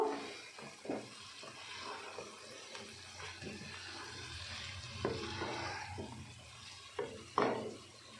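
Fried potatoes being stirred into a chicken curry masala in a pan, giving a soft, continuous scraping and wet mixing sound with a few louder spoon knocks, close up and without talk.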